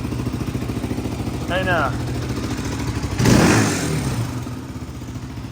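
A Honda 400EX engine swapped into a Polaris RZR 170 idles with a steady low chug, then revs up sharply with a loud rising burst before settling back. People talk briefly over the engine.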